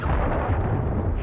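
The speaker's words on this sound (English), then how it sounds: "Friendly cruise missile deployed." A cruise missile explodes in Call of Duty, a heavy, sustained low rumble with crackling debris that fills the whole moment, loud and close.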